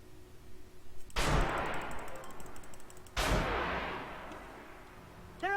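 Twin BMP-2 autocannons fire in the game Armored Warfare, two heavy booming bursts a couple of seconds apart, each with a long rolling decay over quiet engine hum.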